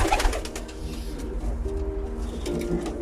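A pigeon coos repeatedly in soft, low, throaty phrases close by, with faint background noise.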